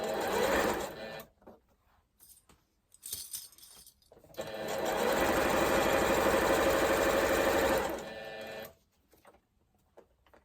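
A sewing machine stitches the top of a fabric shopping bag in three bursts: a short run, a few quick stutters, then a long steady whir of about four seconds, with quiet gaps between and no talking.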